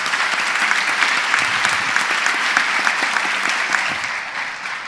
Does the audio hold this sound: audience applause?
yes